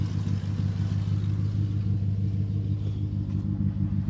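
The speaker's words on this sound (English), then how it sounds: "Let's give it a little quick rev." A 1976 Ford Crew Cab Dentside pickup's engine runs with a steady low rumble and a slight rise in revs, loud and close, with no talk over it.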